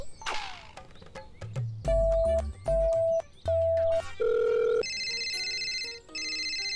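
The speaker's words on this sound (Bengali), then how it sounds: "এই তো রিং হচ্ছে, ফোনটা এইখানেই কোথাও বাজছে" Cartoon telephone ringing in repeated loud electronic bursts with a steady pulsing rhythm, broken up by comic thwacks and whistles at the start and continuing as a higher warbling ring toward the end.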